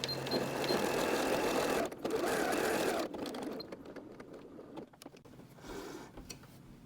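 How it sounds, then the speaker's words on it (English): A sewing machine runs stitch 16, a stretch stitch, along knit fabric, giving a steady close mechanical whir for about three seconds before it slows into softer, intermittent clicks. "I'm going to try stitch 16."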